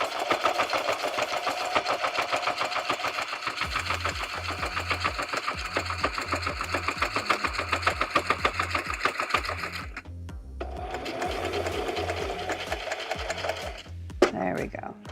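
A sewing machine stitches eco-dyed fabric for a handmade junk journal, running in a fast, steady mechanical rattle. It pauses briefly, restarts with the same rhythm, and ends with a few final clicks.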